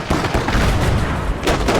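Mortar rounds slam into a small Panzer 38T tank in a wartime video game, a dense run of loud booming blasts and crackling gunfire with a fresh heavy impact near the end.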